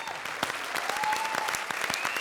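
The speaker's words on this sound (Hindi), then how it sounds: "भाई जोरदार तालियों से अरबाज भाई का स्वागत करें" A television comedy show audience applauds to welcome Arbaaz, with distinct individual claps rising sharply out of the mix over a bed of background music.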